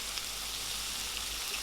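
Tomato and vegetables sautéing in a pan for spring roll filling, a steady, even sizzle like light rain on a hot surface, continuous and close, with no talking.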